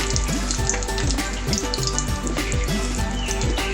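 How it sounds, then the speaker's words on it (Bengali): Dried red chili dropped into hot oil, the oil already used for frying onions, crackles in a loud, steady sizzle with dense popping and spitting throughout, close up and without talk. "শুকনো লঙ্কা একটা ফোড়ন দিলাম"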